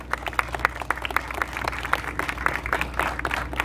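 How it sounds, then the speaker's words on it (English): A crowd at a ribbon-cutting ceremony for a Benjamin Moore Sierra Pro Paint store in Weslaco applauds the economic development board members, with dense, steady clapping sustained throughout at moderate volume with no talk over it. "Let's give them a round of applause."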